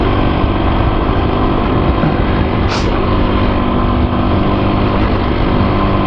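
A Husqvarna TE250 motorcycle is ridden along at an easy pace, its engine producing a constant, buzzing drone that stays loud and close from start to finish, with no voices.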